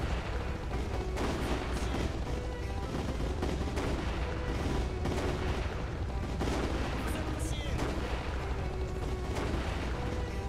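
Sniper rifle fire and battle noise from the video game Heavy Fire Shattered Spear, a dense, continuous barrage of shots and explosions filling the whole stretch at steady loudness.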